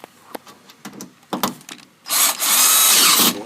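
Power drill driving screws into a door lock actuator on a 2008–2012 eighth-generation Honda Accord, a few short clicks and taps followed by a loud, close, sustained whirring burst of about a second and a half.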